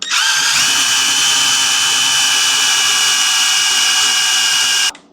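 A Kobalt power drill whirs loudly and continuously for several seconds at steady speed, then cuts off abruptly.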